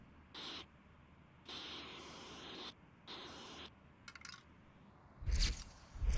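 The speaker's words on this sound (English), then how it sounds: "Just spray it on." Spray paint can hissing graffiti onto a wall in several separate bursts, one long push of about a second between shorter ones, close and fairly quiet with no talking.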